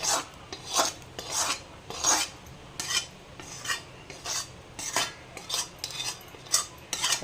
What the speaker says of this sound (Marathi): तर त्याच्यावर हे ओतून घेते इथे मी करून घेतलेले सगळं मिक्स